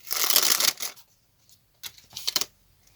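A paper surprise packet being torn and opened: two bursts of crisp rustling and crinkling, a longer one at the start and a shorter one a moment later, close and alone, with quiet between them.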